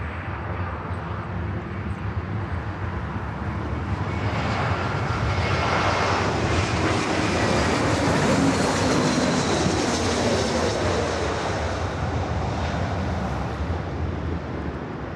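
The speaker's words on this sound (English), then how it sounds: "It's the JetBlue A321 coming in from JFK." A JetBlue Airbus A321 arriving from JFK lands at LAX, its engines a broad, loud roar that swells toward the middle and holds steady for about fifteen seconds, with no talking over it.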